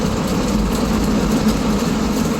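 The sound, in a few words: 1965 Corvair 500 engine shifting during test drive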